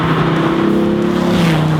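A 2008 Dodge Viper SRT-10 engine roaring loud and close through its new exhaust system, a deep steady rumble with a slight pitch drop near the end, no talking.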